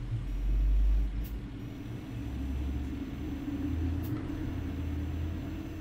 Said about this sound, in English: Okay, another trash truck.